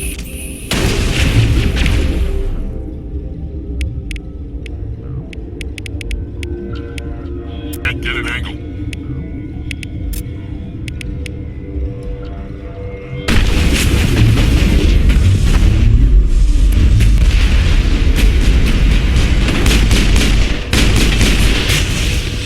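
Gunfire and explosions during combat in the video game Mass Effect: booming blasts and sharp shots, sparse at first and then a dense, loud barrage in the second half, with voices speaking over parts of it.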